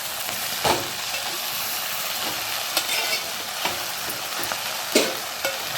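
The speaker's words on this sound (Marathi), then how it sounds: "आता आपण ही भाजी टाकून घेऊया पूर्ण भाजी मोठा गॅस गॅस ठेवायचा आणि मोठ्या गॅसवरती आपण बघा अशी परतून घ्यायची" Vegetables stir-fried in a pan over a high gas flame give a loud, steady sizzle throughout, with a few sharp spatula scrapes and knocks at irregular moments and no voices.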